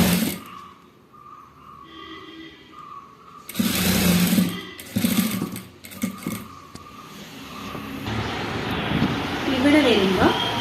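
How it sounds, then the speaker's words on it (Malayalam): A sewing machine stitching a nightie neckline in bursts, its loud, close, rapid whirring starting and stopping, with someone speaking in between. "സെൻറ്ററിൽ കൂടെ നേരെ സ്റ്റിച്ച് ചെയ്യുക."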